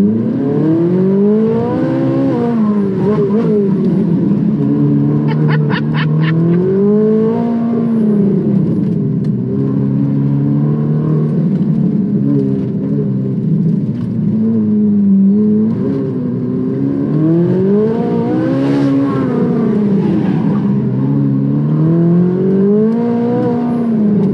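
An Audi R8 sports car accelerates hard through repeated gear changes, its engine note rising and falling in long sweeping surges, loud and close, with no talk over it.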